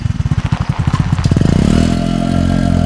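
A motorcycle engine at night, first heard as loud, rhythmic low pulses that blur into a steady, close idle rumble.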